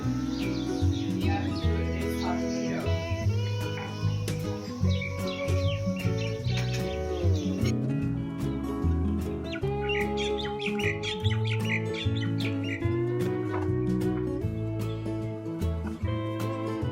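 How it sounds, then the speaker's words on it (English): Small birds squabble and chirp in Kihei, Hawaii, a dense, continuous tangle of sharp, overlapping calls and squawks close by, with no talking. "Fighting little birds."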